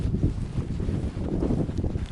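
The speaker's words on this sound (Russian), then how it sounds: "Ветер фигачит, вообще капец." Strong wind in a winter blizzard on a frozen lake during ice fishing, buffeting and rumbling against the microphone in uneven low gusts, loud and close.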